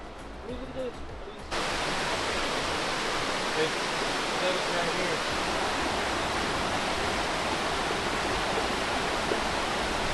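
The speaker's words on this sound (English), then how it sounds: "It's the 202nd tallest waterfall in the world." Waterfall on Nuku Hiva, French Polynesia, a dense continuous roar of falling water that swells in abruptly after a quiet opening second and then holds loud and unbroken.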